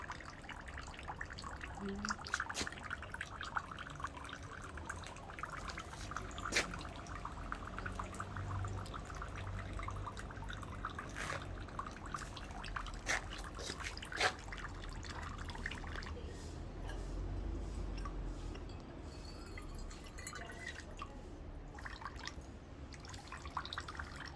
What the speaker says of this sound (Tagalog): ang agos ng tubig.